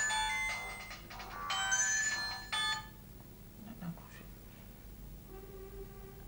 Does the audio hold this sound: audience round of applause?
no